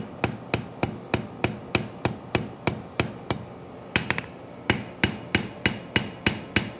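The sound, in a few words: hammer forging metal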